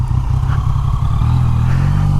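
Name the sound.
motorcycle in neighborhood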